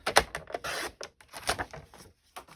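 Card paper being cut down to size for a handmade sympathy card, a series of short, sharp close-up snips and taps with brief pauses between them.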